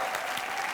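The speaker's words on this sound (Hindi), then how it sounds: "जोरदार तालियां।" Loud audience applause on a television comedy show, a brief burst of dense, continuous clapping with no speech over it.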